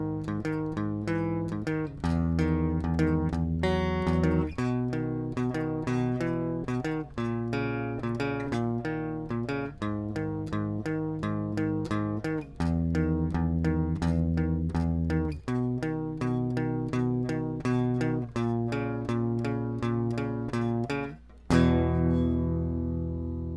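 Guitar playing of a song, with sustained strummed chords ringing in a steady, continuous flow for over twenty seconds, close and clear, ending with a sharp final strum and no voices.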